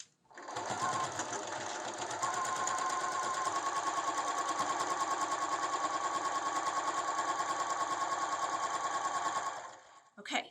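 A sewing machine stitches a quarter-inch seam on a quilted sunglasses case, running steadily and close for about nine seconds before stopping, with no voices over it.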